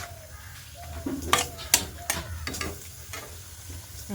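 A spatula stirs food in a frying pan on the stove, sounding as several sharp metallic scrapes and clinks over a low sizzle, fairly close and moderately loud.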